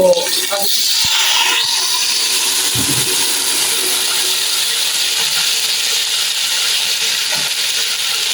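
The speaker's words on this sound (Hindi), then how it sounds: "अब इसमें मैंने पानी डाला" Water rushes into a cooking pot of browned onions, hissing and sizzling loudly as it hits the hot oil, then settling into a steady bubbling steam hiss.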